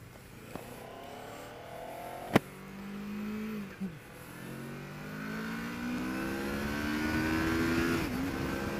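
Kawasaki Ninja 650 motorcycle accelerating hard in second gear, the engine note climbing steadily and dipping once before it rises again, heard at a distance under wind, with one sharp click near the start.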